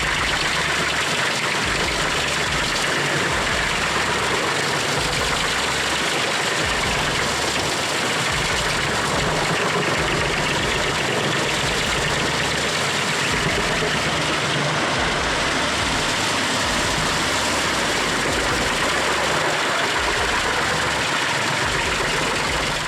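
A DH8112Q drum shredder with high-torque hydraulics and aligned knives runs continuously, a loud, steady, dense mechanical roar and rumble that keeps an even level throughout.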